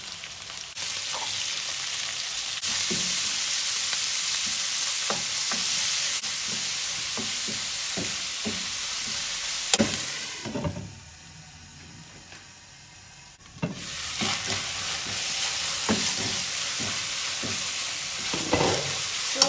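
Minced keema meat sizzles and fries steadily in a pan, with scraping stir strokes throughout and a brief quieter lull midway before the hiss returns.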